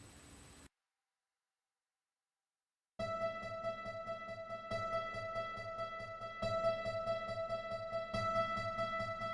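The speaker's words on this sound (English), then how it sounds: "to add some delay and a panning effect in order to kind of like follow the rhythm of the low synth" A harp-like synth with delay and a panning effect follows a low synth's rhythm, entering after a brief burst of noise and silence as a steady, rhythmic plucked pattern with repeating echoes over a sustained low bed, without voices.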